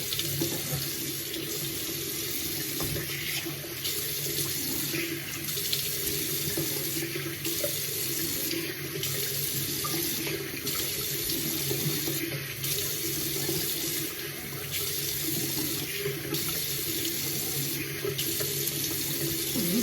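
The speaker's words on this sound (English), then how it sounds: "You wash your face like this, and also when you wash like this, also you just wash your face." A tap runs steadily into a sink as a face is washed with papaya soap, a constant close rush of water with regular faint dips as hands move in and out of the stream.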